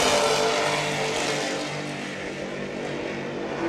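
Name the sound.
racing powerboat with twin Sterling engines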